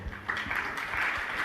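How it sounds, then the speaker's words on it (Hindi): An audience at a Jain spiritual discourse breaks into brief, steady applause, a soft wash of claps from a crowd at moderate distance. "फैशन है ताली बजाने का"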